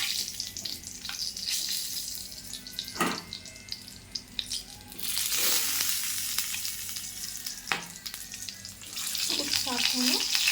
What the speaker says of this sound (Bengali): এবার এক এক করে পটলগুলোকে আমি ভেজে নেব।